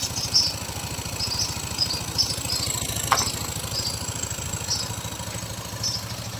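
A Yamaha Mio 125 fuel-injected scooter with a faulty injector idles close by, a steady low putter with regular pulses and a few light clicks, no voices.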